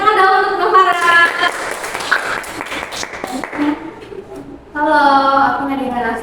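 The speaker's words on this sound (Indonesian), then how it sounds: "tepuk tangan dong untuk Novara" A group applauds during a school podcast recording, a burst of scattered hand clapping in the middle, with students' voices speaking before and after it.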